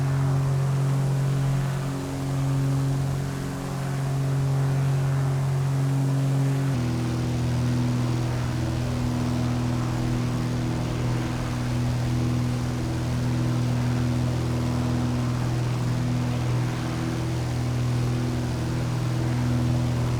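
Steady, loud droning engine of a Piper PA-28R Arrow III light aircraft climbing after takeoff, a constant propeller hum with a slight pitch shift partway through.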